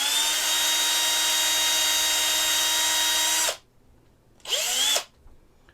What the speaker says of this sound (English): there are large chunks of resin I can drill into